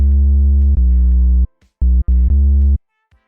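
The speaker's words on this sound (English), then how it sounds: "Now we have pure sine wave." Pure sine-wave sub bass from the FL Studio Citrus synth plays a few sustained low notes, loud and clean, broken by short gaps and a pair of quick stabs.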